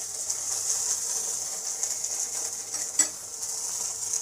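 Okra hits hot dal in a pan with a steady, bright sizzle that holds throughout, close up, with a single sharp clink of a utensil partway through.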